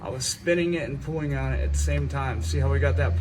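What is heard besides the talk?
No distinct noise like a dog, phone or traffic.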